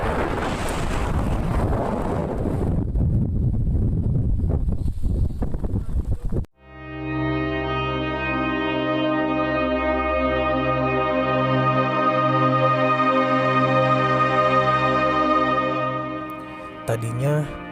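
Strong wind buffets and roars loudly for several seconds on the foggy summit of Mount Merbabu in a storm, then cuts off abruptly and sustained musical tones take over.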